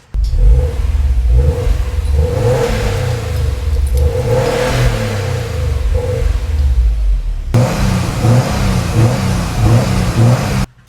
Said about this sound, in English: here's how it sounds stock.